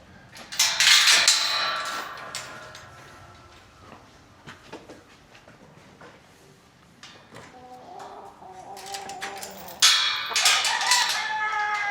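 Roosters on a farm crow loudly in two bursts, at the start and again near the end, with softer clucking and bird chatter in between.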